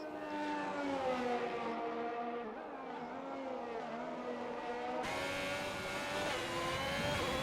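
A Ferrari race car engine in a racing video game, a high continuous wail that steadily climbs and dips in pitch through gear changes and stays loud throughout, with no talking.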